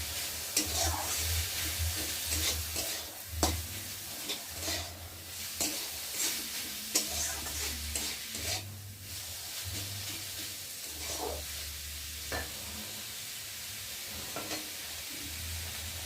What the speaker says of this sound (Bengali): কেটে রাখা ক্যাপসিকাম আর গাজর। একটু ভালো করে ভেজে নেব।